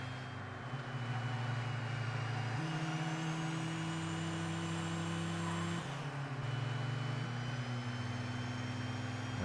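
Racing truck engines in ToCA Race Driver 2 drone steadily and loudly, the pitch stepping up and down through gear changes as the pack runs close together, with no talk over it.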